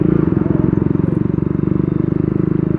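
Motorcycle with a modified exhaust putting out a rapid, even low-pitched thump, loud and close while riding.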